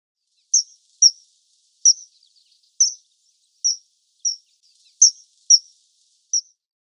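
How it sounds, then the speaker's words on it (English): Kingfisher calling: nine sharp, high, clipped notes spaced unevenly over several seconds against total silence, clear and fairly close. "Kingfisher,"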